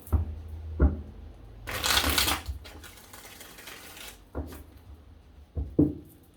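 Tarot cards riffle-shuffled close up: a long papery flutter in the middle, with shorter snaps and taps before and after.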